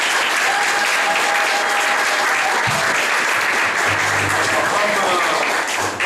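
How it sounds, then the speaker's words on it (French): Guests at a wedding ceremony applaud in a sustained, loud wash of clapping that fills the whole stretch, with a few voices and low thumps underneath. "applaudissez encore"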